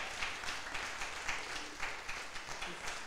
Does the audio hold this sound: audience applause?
yes